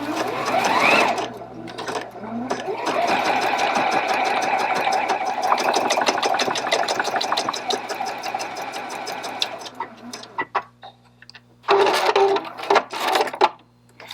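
A Juki sewing machine stitches a hem on a pair of pants, running steadily and loudly for about ten seconds with a fast mechanical rattle, then stopping briefly before a couple of shorter bursts of stitching.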